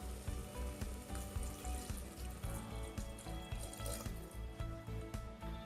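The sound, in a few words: tomatoes sizzling in oil in a pot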